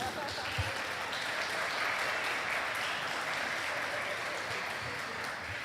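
Church congregation applauding during a sermon on raising children by the Scriptures, a steady, fairly distant wash of clapping that holds evenly throughout, with a voice faintly audible underneath.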